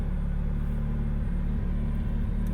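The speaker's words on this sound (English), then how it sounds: "Hopefully the car is not too obnoxious for my coworkers." A car engine rumbling steadily from inside the cabin while driving to work, a constant low drone with no talk.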